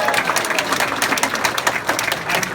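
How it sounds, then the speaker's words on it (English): Audience applause at a fan convention Q&A panel fills the clip: dense, steady clapping from a crowd, loud and continuous throughout. "By applause."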